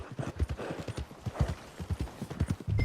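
Horse hooves clip-clop in a steady, fairly close rhythm on a street in Red Dead Redemption 2, with a brief low snort near the end.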